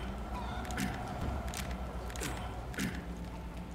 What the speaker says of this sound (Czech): slyším zatracenou slepici